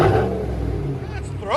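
A Chevy Silverado 5.3L V8 exhaust revs up loud and close in a deep throaty rumble, briefly rising in pitch near the end, with voices talking over it.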